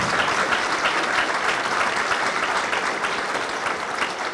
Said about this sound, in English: give it one more round of applause for the Finster family